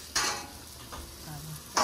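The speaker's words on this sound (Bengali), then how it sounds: "আর এই আজকে শাক ভাজা খেতে, শাক ভাজা" Leafy greens (shak) fry in a pan with a steady low sizzle, broken by a couple of sharp scraping stirs of a utensil against the pan at the start and end, close by with no talk.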